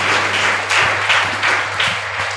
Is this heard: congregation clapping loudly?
yes